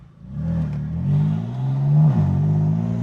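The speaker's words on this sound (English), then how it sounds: "The car looks and sounds amazing" A BMW M3 engine revs up and holds a steady roar, pitch climbing and dipping once, loud and close with no talking.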